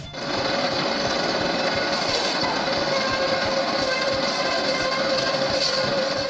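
A timber-processing machine turning raw wood into posts and stakes runs with a loud, continuous mechanical whir and rapid rattling, steady and close throughout.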